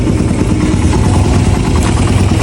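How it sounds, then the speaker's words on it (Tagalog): A Suzuki Raider 150 motorcycle engine idles close by after a carburetor shim adjustment, a loud, steady, even chugging with no talk over it. "Tahimik na yung makina."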